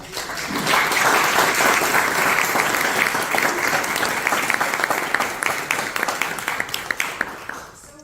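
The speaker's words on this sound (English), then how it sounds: "let's have a round of applause for all of you" Loud, sustained applause from a large audience for university award recipients, a thick even roar of clapping that thins toward the end, with a little crowd murmur beneath it.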